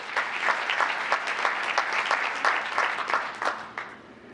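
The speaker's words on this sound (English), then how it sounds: "Another big round of applause." An audience at a town state-of-the-town event claps in a short, steady round of applause, moderately loud and continuous, fading slightly toward the end.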